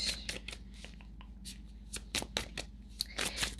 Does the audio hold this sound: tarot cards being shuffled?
yes